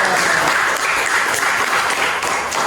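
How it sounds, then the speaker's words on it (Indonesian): Applause from a classroom audience for a student group that has just given a presentation: dense, steady clapping that fills the whole stretch at an even loudness, with no voices over it. "beri tepuk tangan untuk kelompok 2"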